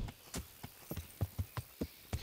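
Hooves of a mare clop in an even walking rhythm in Kingdom Come: Deliverance, a run of close, moderately loud strikes with no other sound.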